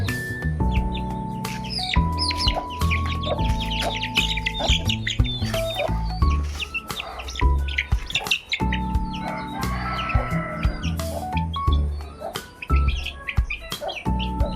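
Aseel home-bred chickens clucking and chirping on a farm, with a steady stream of close clucks and occasional crowing against a busy fowl chorus, no talk.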